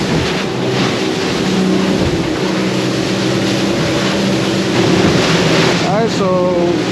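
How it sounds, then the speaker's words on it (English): A boat crossing toward Bimini runs through ocean waves, its engine droning loudly and steadily with rushing water and wind buffeting the microphone, and a voice speaks briefly near the end. "I'm zigzagging through these waves to find the most comfortable route."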